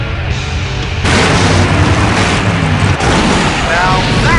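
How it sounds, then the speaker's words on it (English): A loud explosion in the PC adventure game Full Throttle goes off with a heavy boom, followed by a sustained roaring blast and rumble that carries on for several seconds. "Now that's an explosion"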